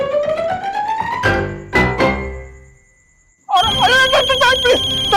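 A phone rings with a melodic electronic ringtone in repeated bursts, loud and close, over background music and sound effects in a TV drama scene.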